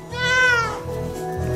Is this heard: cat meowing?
yes